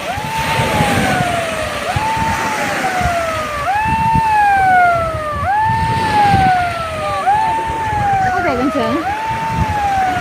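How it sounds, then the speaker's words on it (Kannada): An emergency siren near the beach at Malpe, toward St. Mary's Island, wails loud and close in repeating rising-and-falling sweeps, with a second tone layering in later over traffic rumble and crowd noise. "ಸೈರನ್ ಬಂದು"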